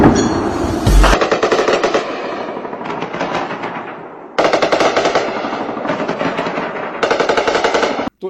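Heavy gunfire along the Line of Control between Pakistani and Indian forces: loud, sustained bursts of rapid machine-gun fire in several long volleys, with brief pauses between them and no talking over the shooting.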